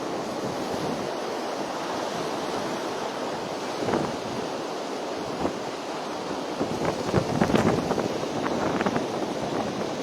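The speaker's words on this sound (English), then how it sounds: "It's windy now." Strong wind blowing across a high Himalayan mountain spot between Uttarkashi and Gangotri, a steady roaring rush with louder gusts buffeting close to the microphone near the end.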